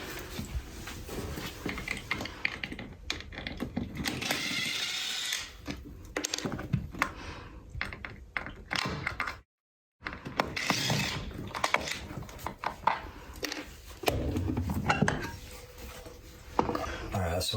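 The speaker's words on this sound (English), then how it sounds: "I'm gonna take my impact with my square head bit, and I'm gonna take off my wheel well covers first" An impact driver with a square-head bit backs out wheel well cover screws, giving repeated ratcheting, mechanical bursts with pauses between them, close and moderately loud over workshop noise, with occasional voices.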